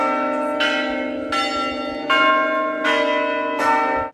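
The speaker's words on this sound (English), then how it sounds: "2 men were seen manually sounding the church bells" Hand-rung church bells at a Bulgarian village monastery ring out in five measured strokes, each a bright clang with long humming resonance that carries into the next.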